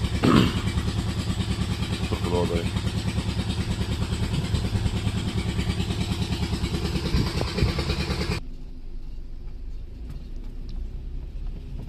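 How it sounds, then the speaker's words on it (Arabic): A loud, steady chugging irrigation pump engine drones close by on farmland with a brief voice over it, then the running motor drops to a quieter, lower hum. "الموتور اللي براو الأرض ده"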